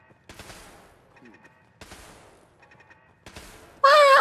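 Turret gunfire in Fallout 4 comes as three separate bursts of rapid shots, each trailed by faint mechanical beeping, ending in a loud harsh electronic blare.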